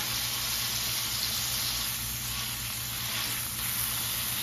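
Smash burger patties frying in a cast iron skillet, a steady, loud, close hiss and crackle of sizzling fat that holds evenly throughout.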